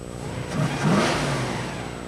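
A show car's engine at a car show in Anoka, Minnesota is revved once, rising to a loud, throaty peak near the middle before settling back toward idle, close up and alone.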